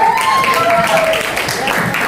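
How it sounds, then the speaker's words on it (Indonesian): A school talk-show audience from SMAN 1 Cileungsi class X.5 claps for a participant named Habil in a dense, continuous patter of applause, with a voice speaking over it throughout. "Tepuk tangan dulu nih buat Habil."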